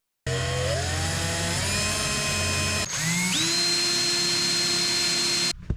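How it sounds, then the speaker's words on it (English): A power drill whirs steadily, its pitch shifting up and down as it bores through a PVC pipe and fishing rod holder on a kayak, running for about five seconds before stopping abruptly. "started to drill the rod holder and the actual PVC pipe"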